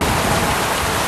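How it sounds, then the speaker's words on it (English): Heavy rain pours down in a dense, steady hiss, loud and close, with no break and no voices. "in the pouring rain"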